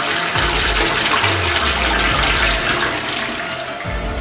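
Water gushes steadily from a tap as it is being shut off, a loud, continuous broadband rush that stays strong throughout and eases only slightly near the end.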